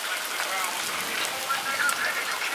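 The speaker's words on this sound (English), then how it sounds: "About an hour and a half into hiking, it started pouring rain." Heavy rain pours down in the forest on Yakushima, a dense, steady hiss of drops on leaves and ground that stays even and fairly loud throughout, with no speech.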